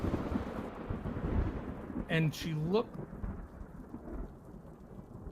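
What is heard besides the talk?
thunder sound effect during storm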